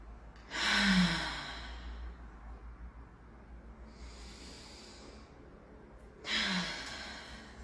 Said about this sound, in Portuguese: vamos respirar junto comigo profundamente, uma respiração consciente, presente.